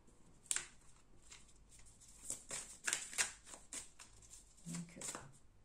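Tarot card drawn from a deck, a series of short papery flicks, slides and snaps in quick bursts, close and fairly soft, with quiet talking around them.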